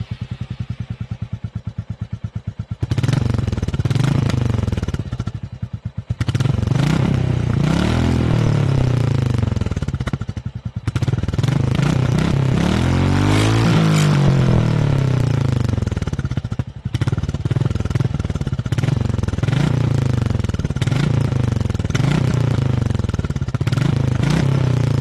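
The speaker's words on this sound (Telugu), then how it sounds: "బుల్లెట్ 350 ఎగ్జాస్ట్ సౌండ్ వచ్చేసరికి తంపియర్ గానే ఉంది" A 2024 Royal Enfield Bullet 350 single-cylinder exhaust thumps steadily while riding on the road, a loud, close, low pulsing beat that rises and falls with throttle changes, with wind buffeting and brief dips between gears across the whole stretch.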